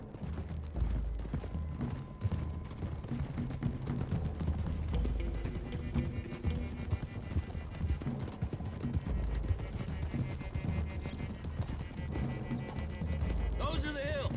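Horses galloping in the video game Red Dead Redemption 2, a steady run of hoofbeats under continuous character dialogue and game sound, with the rhythm partly masked by the voices throughout.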